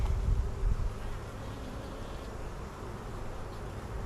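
Honeybees buzz steadily throughout a late-March beehive inspection, a dense, continuous close drone of many insects at moderate level with no talk.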